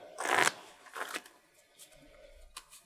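Magic: The Gathering playing cards being shuffled by hand: a quick riffle burst at the start, a shorter second riffle, then faint card handling and soft taps, close and fairly quiet.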